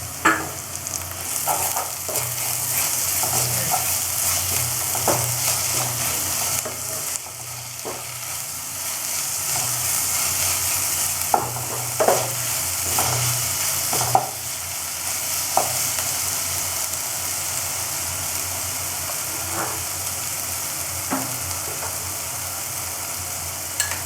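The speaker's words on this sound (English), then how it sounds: "Now I will add 1 tablespoon ginger garlic green chili paste." A tablespoon of ginger, garlic and green chili paste fries in a pan with a constant bright sizzle, broken by repeated scrapes and clinks of stirring for a long stretch, no talking.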